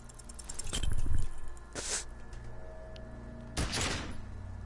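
A gunshot rings out in the Disco Elysium video game: a sharp, cracking blast stands out over quiet ambience, followed a moment later by a second abrupt impact.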